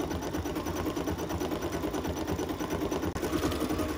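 An embroidery machine stitches a green leafy Persian bud pattern around an oval on a sampler block, giving a continuous, close mechanical whir with rapid rhythmic needle clatter and no pauses.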